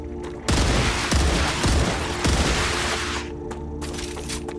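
Burst-fire gunshots in the video game StarRupture, a few sharp booming volleys fired in quick succession with a heavy low thump, fading into a lingering rumble and faint clicks as the shooting stops.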